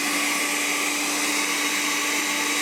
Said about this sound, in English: always make sure to keep your hand on top of the blender at all times